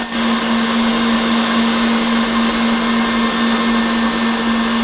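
An electric whisk runs on high, beating a baked Alaska meringue mixture with a steady, loud motor whine that holds unchanged throughout, without talk.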